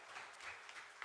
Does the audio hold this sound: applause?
yes